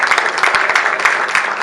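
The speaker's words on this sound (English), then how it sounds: "we want to request a round of applause" An audience in a conference session hall applauds with brisk, fairly loud clapping, individual claps standing out in an uneven rhythm.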